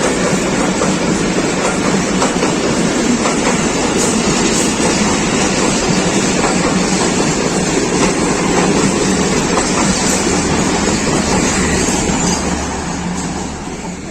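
A Pakistan Railways passenger train on the Lahore–Rawalpindi line rushes past at speed, a loud, continuous roar of wheels and carriages with faint clickety-clack running steadily throughout before easing slightly at the end.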